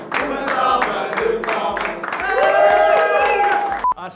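An audience claps in a steady rhythm at a festive celebration for a boy named João, a run of evenly spaced claps with voices and cheering mixed in throughout.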